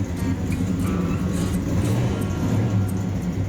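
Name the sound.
black 1966 Dodge Coronet car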